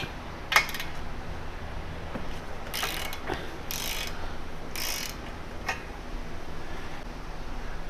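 Ratchet clicking while removing the 17 mm ball joint nuts on a 10th-generation Honda Civic during an anti-lift kit install, heard as short bursts of metallic ratcheting alone over a steady background hiss.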